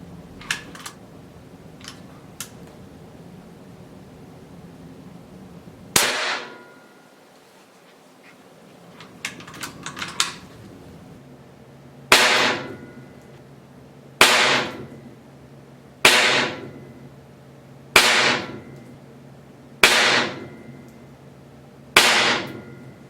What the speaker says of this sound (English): So I'm going to load this up, and I'm going to go ahead and I'm going to keep shooting